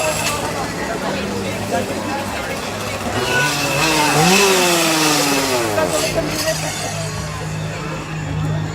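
A steady engine-like buzz of a running chainsaw fills the scene at Busch Gardens Tampa's Howl-O-Scream Halloween event, with people talking over it and a rising whine in the middle.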